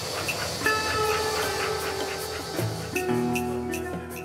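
A train on the Congo railway rolls along with a continuous rumbling roar, steady hiss and sustained metallic tones shifting in pitch, loud and close, without speech.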